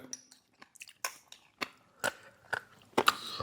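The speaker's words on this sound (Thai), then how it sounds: "พี่น้องฟิลเหมือนเคี้ยวกระดูกอ่อน" Close chewing of large, crunchy dried bullet jellyfish, with a series of sharp crisp crunches spaced roughly half a second apart and soft mouth sounds between, no talking.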